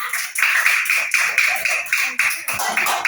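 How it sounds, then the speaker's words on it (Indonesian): A classroom group claps for a team in a lively, uneven round of hand clapping, close and fairly loud, with steady rapid claps lasting a few seconds. "Kasih aplaus untuk kelompok 2."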